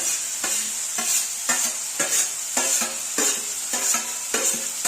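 Onions and curry leaves fry in cooking oil in a pan over a stove, a bright continuous sizzle broken by rhythmic stirring scrapes roughly every half second, close and clear with no talking.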